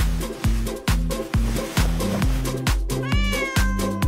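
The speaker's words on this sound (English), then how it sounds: "Let's distract the cat." A cat meows in a quick, regular series of short, loud calls, roughly two each second, repeating evenly without any speech.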